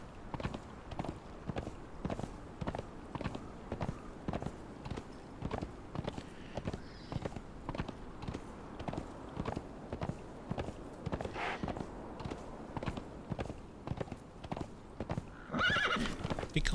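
A horse (steed) in the video game Conan Exiles trots along with a steady, rhythmic clip-clop of hooves, and a brief neigh breaks through near the end.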